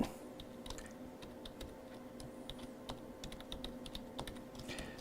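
A password being typed on a computer keyboard, quick soft clicking keystrokes in irregular bursts, faint and close over a low steady hum, with no voices.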